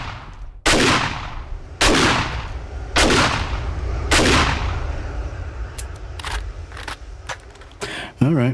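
Gunfire in a first-person shooter game using the Penetrator perk, with four loud, evenly spaced shots followed by several quicker, lighter shots and a final burst, heard over quiet game ambience.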